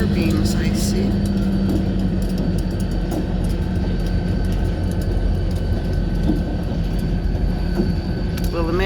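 A New England Central freight train hauling center-beam cars passes close by, with a Connecticut Southern engine following right behind. Its rumble and the clatter of its wheels stay loud and steady throughout, and brief squeals rise over the roar.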